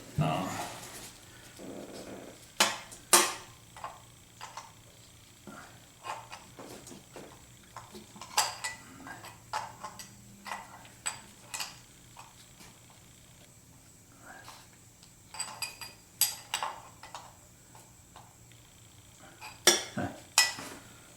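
A wrench works on 9/16 Chevy bow-tie intake manifold bolts of a 1976 Corvette restomod, making scattered faint metallic clinks and taps at irregular intervals in a quiet garage.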